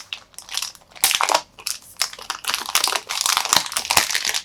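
Packaging of a RedMagic 6R gaming phone being unwrapped, with loud, close crinkling and crushing of plastic and paper in bursts over several seconds, no talk.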